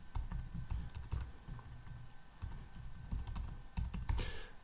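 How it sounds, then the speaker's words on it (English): Rapid keystrokes on a computer keyboard as a URL is typed, a close, quiet run of clicky taps in uneven bursts with short pauses. "We type in"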